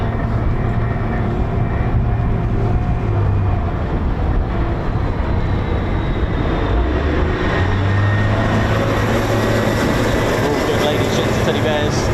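Twin Pratt & Whitney F100 jet engines of an F-15E Strike Eagle howl steadily in the distance at an air force base, forming a continuous broad roar.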